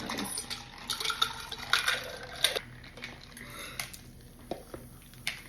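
Cola pours into cups, crackling and fizzing close up with a steady hiss of bubbles and small splashy bursts.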